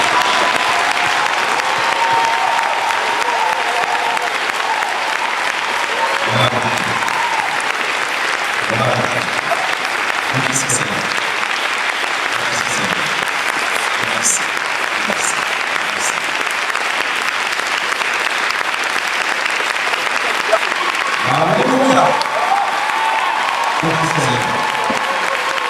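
A church congregation claps steadily for close to half a minute as a loud, continuous wash of applause, with a few short voices and shouts breaking through now and then.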